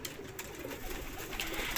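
Pigeons in Ustad Abid Jutt's loft give soft, low cooing, faint and close, with some light rustling.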